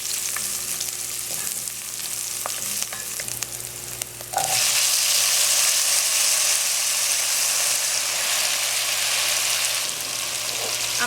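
Onions, garlic and hot pepper hit a hot pan and sizzle loudly and steadily, preceded by a few clinks and stirring scrapes, with no talking.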